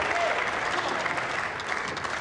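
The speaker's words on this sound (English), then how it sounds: "Orchestrating the applause" Steady applause from a large crowd at a pool tournament semi-final, dense and even throughout with no voices standing out.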